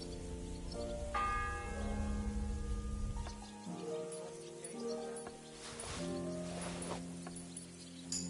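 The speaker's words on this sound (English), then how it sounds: "The first bell." A church bell tolls in the medieval game Kingdom Come: Deliverance, its deep resonant strikes ringing out with long humming decay that overlap, set against faint rustling ambience.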